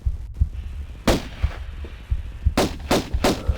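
Pistol shots ring out in Tomb Raider 1: Unfinished Business, in the Atlantean level: one sharp crack, then a spaced run of four more, over a low rumbling game backdrop.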